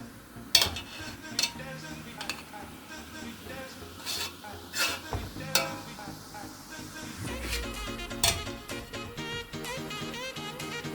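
Butter melts beside şırdan, stuffed tripe, in a pan, giving a faint soft sizzle under sharp clinks of a utensil against the pan and dishes, with irregular stirring and scraping throughout.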